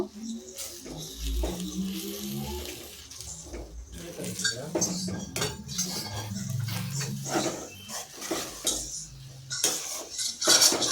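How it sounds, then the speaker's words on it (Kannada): Egg and drumstick greens are mixed in a pan over a raised flame, with a spatula clattering and scraping against the metal in quick, uneven bursts, close up, and only a faint hint of talk. "ಇದನ್ನೆಲ್ಲವನ್ನು ಚೆನ್ನಾಗಿ ಮಿಕ್ಸ್ ಮಾಡ್ಕೋಬೇಕಾಗುತ್ತೆ ಮೊಟ್ಟೆ ಸೊಪ್ಪು ಎಲ್ಲವೂ ಚೆನ್ನಾಗಿ ಬೆರಿಬೇಕು"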